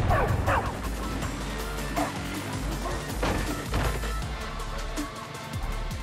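A dog barks and yips repeatedly in Far Cry New Dawn, mixed with crashing and smashing game effects in a busy, loud scene.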